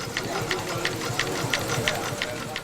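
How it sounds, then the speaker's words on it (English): Case 60-horsepower steam tractor built between 1910 and 1924, running at a farm show with an even, quick chuffing beat of regular pulses over a low mechanical rumble, with people talking faintly in the background. "This is a Model Case steam 60-horse tractor."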